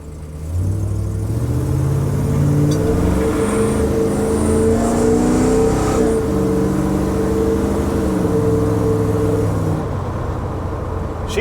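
An old big-block car engine idles and revs steadily on a cold start, loud and close, its rumbling note rising and falling in pitch throughout with no speech.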